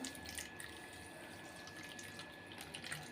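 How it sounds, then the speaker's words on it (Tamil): Water splashes and trickles steadily into a container of sabja seeds, a continuous close-up pouring sound with small splashy bursts. "இப்போ தண்ணி சேர்த்துக்கிறேன்"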